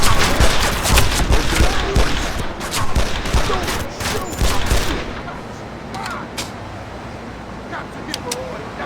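Rapid bursts of gunfire from the crime shooter game Made Man, loud and dense in the first five seconds, then scattered single shots, with a character shouting over the fighting.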